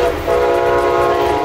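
A Brightline high-speed train testing at 110 mph through Martin and St. Lucie counties blasts its horn as it passes, a loud sustained multi-tone horn with rumbling wheels beneath, very close.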